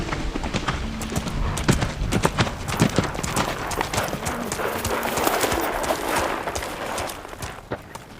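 Horse hooves clip-clop in a quick, uneven rhythm, close by, mixed with rustling and scattered sharp knocks.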